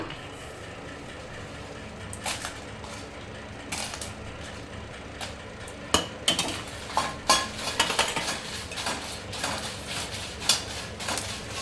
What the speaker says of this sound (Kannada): ಹಾಗೆಯೇ ಒಣ ಮೆಣಸಿನ್ಕಾಯಿನೂ ಕೂಡ ಫ್ರೈ ಮಾಡ್ಕೊಳ್ಳೋಣ.